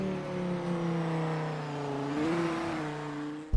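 Dodge Viper race cars in the rFactor racing game, a droning engine hum with steady harmonic whine, pitch holding then briefly rising as revs climb, no talk.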